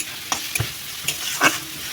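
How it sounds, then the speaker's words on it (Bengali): Onions sizzling in a frying pan alongside chopped tomatoes, with a few brief stirring scrapes standing out over a steady frying hiss, heard close up. "তো পেঁয়াজটা ভাজা হচ্ছে"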